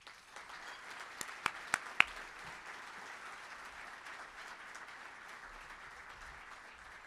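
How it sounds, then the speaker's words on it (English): An audience welcoming Congressman Dan Newhouse with a round of applause, steady mid-distance clapping from a room full of people, with a few sharp louder claps near the start. "please join me in a round of applause for a warm welcome for Congressman Dan Newhouse"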